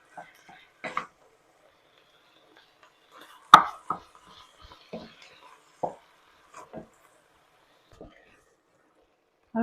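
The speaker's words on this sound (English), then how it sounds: "1 pound of pork sausage. Just break it up. Flipping it over." A pound of pork sausage is broken apart and turned in a pan with a utensil: sparse scrapes and soft knocks spaced a second or so apart, with one sharp clack near the middle, close and fairly quiet.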